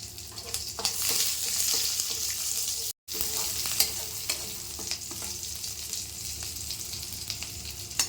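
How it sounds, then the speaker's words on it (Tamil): Chopped onion fries in a pan for capsicum poriyal, a steady crackling sizzle with occasional clicks of stirring and a brief gap partway through. "வெங்காயம் கொஞ்சம் வதங்கட்டும்."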